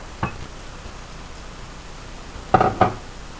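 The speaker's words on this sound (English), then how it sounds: "get that all stirred in" Spiced pancake batter is stirred in a bowl, with an isolated clink of utensil against the bowl, a long quiet pause, then two close knocks near the end.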